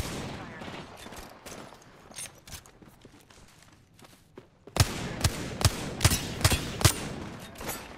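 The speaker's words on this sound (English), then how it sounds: "Are you being shot at?" Video game gunfire in Apex Legends: scattered distant shots early, then a loud burst of sharp, rapid gunshots from about five seconds on, with a voice talking in between.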